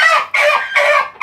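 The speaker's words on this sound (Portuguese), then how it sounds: "Então vamos soltar aqui a surinha poedeira aí um pouquinho aí" A tailless laying hen of the sura poedeira breed clucks and cackles loudly and close by in four quick, bright squawks with brief gaps, nothing else audible.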